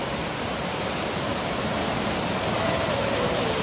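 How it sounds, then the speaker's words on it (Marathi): Water rushes down at one of the seven Amboli waterfalls in the Konkan forest, a loud, dense, unbroken roar filling the whole stretch. "बघा पाण्याचा प्रवाह असा खाली जातो"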